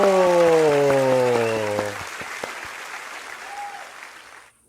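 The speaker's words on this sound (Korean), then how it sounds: "신나게 우리 박수 치면서 퀴즈 시작할게요" Children at a worship service clap together to start a quiz, a burst of rhythmic claps under a fading musical chord, then the clapping tapers off and stops.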